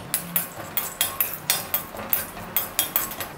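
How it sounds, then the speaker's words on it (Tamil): A utensil scrapes and taps against a kadai in a steady rhythm of about a dozen sharp metallic clinks as cashew nuts are stirred and lightly roasted for protein laddus, close and clear with no talk. "இப்போ நம்ம வந்து அந்த கடாயிலே வந்து காஷ்யூ நட்டை வந்து இப்படி லைட்டாக வறுத்து எடுத்துடலாம்"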